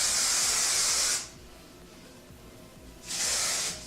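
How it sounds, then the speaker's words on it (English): Shine spray mists over curled hair in two bursts, a long hiss at the start and a shorter one near the end, with a quiet gap between them, close and clear. "So I'm going to spray this all over the curls that we already did"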